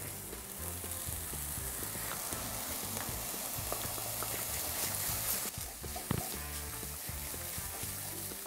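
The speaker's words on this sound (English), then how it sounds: "So now we add the mushrooms." Mushrooms frying in a pan with parboiled spinach, a steady close sizzle throughout with occasional clicks and stirring knocks of a utensil.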